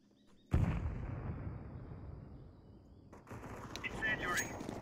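A grenade blast in Counter Strike 2 bursts out loud and close with a sharp boom, then rumbles and crackles on as a fading tail, while game effects and a further burst of noise rise near the end.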